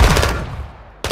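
A loud gunshot in Call of Duty Warzone, a sharp close burst that decays over about a second, followed by the start of another shot.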